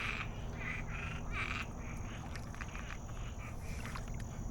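Frogs croak at a pond edge lined with lily pads and cattails during mating season, a steady chorus of repeated, fairly close calls in pulsing bursts over a low ambient rumble.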